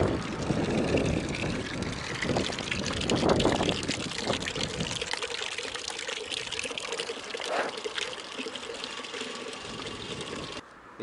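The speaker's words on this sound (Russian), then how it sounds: "воду набираю ведро курам" Water pours steadily into a bucket outdoors on a windy day in Yeysk, filling it for chickens to drink, with a continuous splashing rush that fades slightly toward the end.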